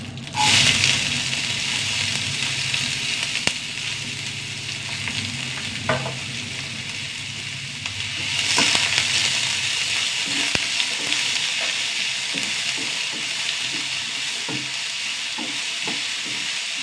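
Sliced onions with mustard seeds and curry leaves frying in hot oil in a pan while being stirred, a continuous close sizzle with occasional spatula scrapes and a louder hiss midway, with no talking.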